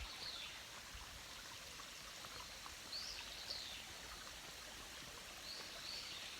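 A stream flows on a nature hike with a steady, soft, continuous rushing trickle, with faint bird chirps now and then.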